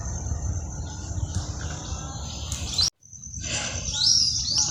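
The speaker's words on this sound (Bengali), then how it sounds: "অনেক বড় বড় এখানে পাখি।" Large migratory winter birds call at a wetland on the Jahangirnagar University campus, giving distant high chirps and tweets over a low outdoor rumble, with a brief dropout midway.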